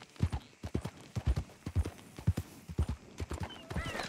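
Horse hooves clip-clop in a steady rhythmic trot in the video game Red Dead Online, loud and close, with a brief whinny near the end.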